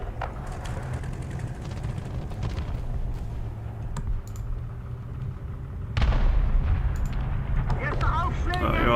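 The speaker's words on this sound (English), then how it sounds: "You're artillerying me, are you?" Artillery fire in the War Thunder tank game, with a German armored force in play: deep, rumbling booms under continuous heavy battle noise, a stronger burst hitting about two-thirds of the way in, and faint keyboard clicks throughout.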